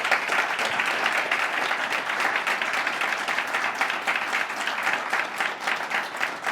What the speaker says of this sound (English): Please join me in giving Paul a round of applause.